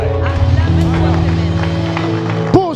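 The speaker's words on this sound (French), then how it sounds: "Acclame très fort." A church congregation raising a loud shout of acclaim during worship, many voices cheering at once in a sustained, resonant roar, with a sharp rising cry near the end.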